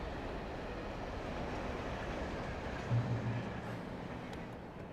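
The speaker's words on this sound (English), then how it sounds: "Alright, so we have a train." A train in the video game Alan Wake produces a steady, broad rumble with a faint rolling rhythm that holds at an even level throughout.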